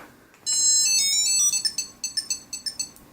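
A Tile Bluetooth tracker plays its ringtone through its small built-in speaker, a bright melodic chime that sustains and then breaks into a rhythmic run of short repeated beeps, close and clear.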